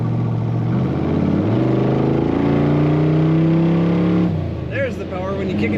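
1966 Chevrolet Corvette convertible with automatic transmission, its engine rumbling steadily and loudly while driving, easing off near the end as a voice briefly comes in.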